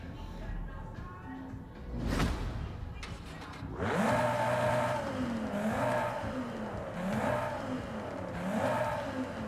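Cupra Formentor engine in Forza Horizon 5, with a brief horn-like tone before the engine starts, then repeated rising revs that swell and fall in a steady rhythm, close and fairly loud.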